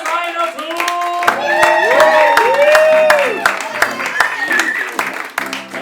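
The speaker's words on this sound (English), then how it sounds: "give the round of applause going, get it going for my man Ryan O'Toole" A live late-show audience applauds and cheers a comedian as he takes the stage, with a dense burst of clapping and crowd noise throughout and voices calling out over it.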